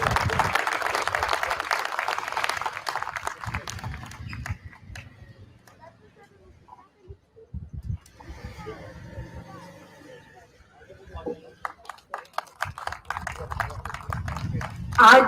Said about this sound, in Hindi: तालियों की गड़गड़ाहट